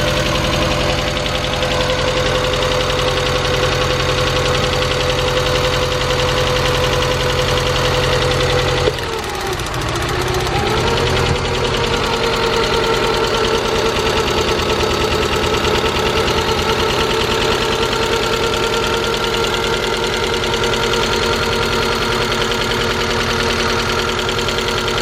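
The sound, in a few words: old Mazda Miata engine idling rough, misfiring cylinder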